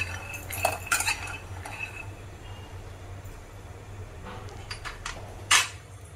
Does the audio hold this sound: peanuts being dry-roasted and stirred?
yes